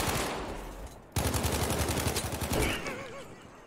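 Rapid automatic gunfire from a weapon in the Battlefield V video game, a sustained burst of closely spaced shots after a brief earlier volley, loud and near, with no talk over it.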